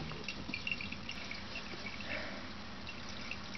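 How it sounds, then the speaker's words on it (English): Water trickling slowly from a hose into a camper's onboard tank on a windy, cold day at an off-grid creek site, a faint steady wash with soft drips and splashes throughout, no voices. "The hose flows in through there, goes down into my onboard tank, and I hear water trickling."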